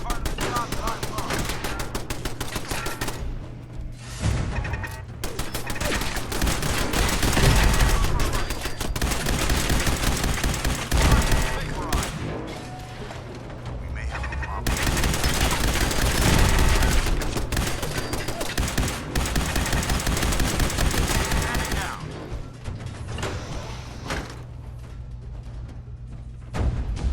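Turrets blaze away in Fallout 4, sustained loud rapid automatic fire with dense overlapping bursts that swell and ease over nearly half a minute, with occasional speech mixed underneath.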